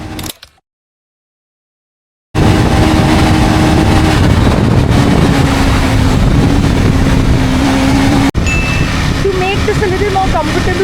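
A KTM 390 Adventure motorcycle engine roars hard and loud after about two seconds of silence, holding a steady rising drone as it accelerates, with a brief dropout near the end.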